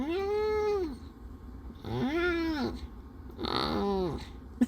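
A cat gives three throaty back-of-the-throat meows, each around a second with a rising-then-falling pitch, close and moderately loud, with a small click at the end.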